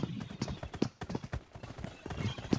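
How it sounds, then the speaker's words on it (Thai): Footsteps thud outside on a house in the battle-royale game PUBG, a quick run of loud, close, irregular steps across a hard surface, alone with no talk over them. "เสียงเท้าข้างนอก"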